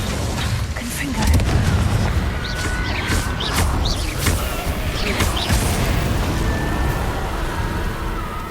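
Confringo blast spells keep exploding in Hogwarts Legacy, a steady churn of booming impacts and crackling bursts with sharp zips of magic over a low rumble.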